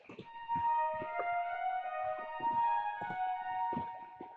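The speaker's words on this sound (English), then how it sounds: "So that makes it sound more like a bell pad." Synth bell pad with reverb made in FL Studio, sustained bright bell-like tones ringing over soft repeated plucked hits, the shimmering tail smeared by reverb and fairly quiet throughout.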